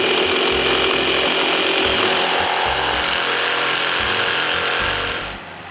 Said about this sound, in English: Using a jigsaw, I cut most of it.